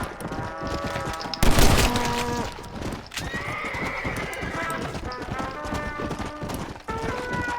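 In Red Dead Redemption: Undead Nightmare, a horse gallops with rapid rhythmic hoofbeats close by, a whinny and a burst of gunfire-like crackle rising above it, while talk runs underneath.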